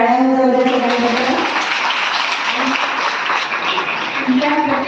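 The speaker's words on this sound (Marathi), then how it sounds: "एकदा टाळ्या" Audience clapping at a Sanskrit antakshari event, a steady wash of applause lasting several seconds with a voice speaking briefly at the start and end.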